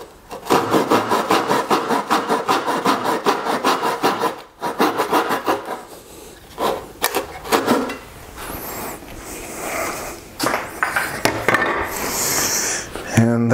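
Hand saw cutting a dovetail on the waste side of a wooden board, a steady rhythmic rasp of back-and-forth strokes that pauses and resumes with scattered clatter near the end.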